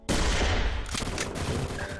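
A dense burst of gunfire from a sniper in Team Fortress Minecraft plays loud and continuous with rapid cracking shots for about two seconds and no talking.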